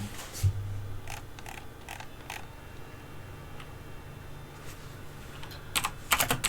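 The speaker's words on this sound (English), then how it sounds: "So now I'm going to type sudo nano" A command is typed on a computer keyboard while setting up a Raspberry Pi 3B+. Scattered single keystrokes click close by, then a quick burst of keys comes at the end over quiet room hum.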